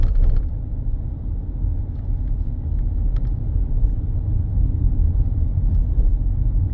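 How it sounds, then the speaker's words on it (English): A car driving along the Coast Road on Barbados' south coast gives a steady, loud low rumble of engine and tyre noise throughout, with a few faint clicks near the start. "we are driving on the tip, on the edge, Barbados' south coast"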